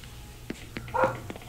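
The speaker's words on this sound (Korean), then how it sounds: "강아지가 이렇게 짖는 거는 고양이가 나타났을 때 이렇게 짖고" A dog in Animal Crossing: New Horizons barking a few short, soft yaps, spaced unevenly, with one slightly louder bark in the middle, against a quiet background.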